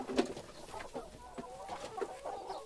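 Free-range village chickens clucking in short, irregular bursts close by, with a few louder squawks over a soft background of other birds.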